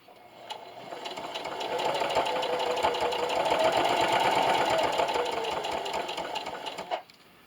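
Sewing machine backstitching near the end of a seam on a baby bib, giving a close, steady whirring rattle of needle strokes. The sound ramps up, holds for several seconds, and stops abruptly with no talking.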